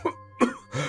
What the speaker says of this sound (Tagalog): bakit parang ang tindi po ng ubo niyo?